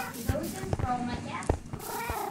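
A cat purrs in the Minecraft video game, a soft steady rumble running beneath players talking over it, with a few clicks and small game sounds.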